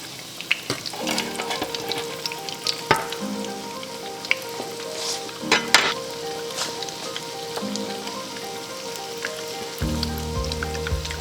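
Tuna croquettes sizzling in hot oil in a pan, a continuous loud crackle and spatter with occasional sharper pops and stirring clatter, swelling near the end, no voices.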